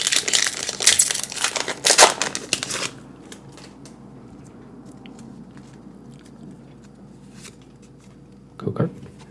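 Pokémon Obsidian Flames booster pack from a booster bundle torn open: a dense burst of loud crinkly foil ripping for about three seconds, then quiet handling, with a short crackle near the end.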